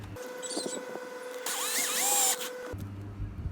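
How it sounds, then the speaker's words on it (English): A drill boring a 3 mm hole, apparently in glued cardboard for a homemade rubber sheet cutter, whines briefly at a high, rising pitch over a steady motor hum and background clatter, close by. "Now I need to drill a 3 mm hole."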